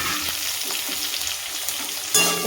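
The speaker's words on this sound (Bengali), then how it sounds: "একটু আধ ভাজা করে নেবো পেঁয়াজটা।" Two large onions frying in a hot pan (kadai) for a vetki fish recipe, a steady dense sizzle throughout, close and fairly loud, with a few stirring scrapes and a sharper burst near the end.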